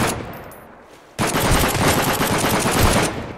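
A machine gun fires in the survival shooter Sunkenland. After a quiet opening, a loud, dense automatic burst erupts and continues rapidly to the end, with no voices.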